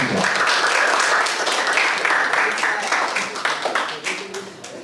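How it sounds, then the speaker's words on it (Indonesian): A classroom full of people applauds a group presentation steadily, the clapping dense at first and then thinning out and fading toward the end. "tepuk tangan lagi untuk kelompok 3"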